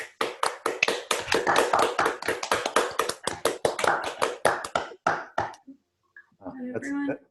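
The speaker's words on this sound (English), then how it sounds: "we can all do the usual hand clap" A small group claps together in a countdown burst right after an online academic talk, sharp close claps in a brisk rhythm for about five seconds, tapering off, then a brief voice.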